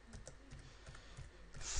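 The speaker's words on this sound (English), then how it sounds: "I'm just going to type it again." Computer keyboard keys tapped in quick irregular bursts, close and fairly quiet, with a slightly louder clack near the end.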